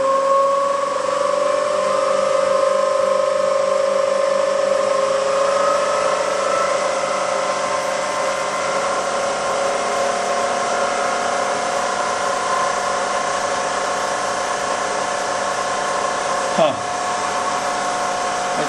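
A wood lathe spins faster while rough turning a natural edge bowl, its steady motor whine and humming tones rising in pitch, then holding constant with one brief knock near the end.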